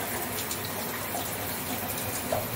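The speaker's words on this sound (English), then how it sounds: "you reach up and you turn the shower on" Water from a showerhead runs in a steady, even hiss, a continuous full spray held at a constant level with no pauses, as after a $5 shower faucet fix.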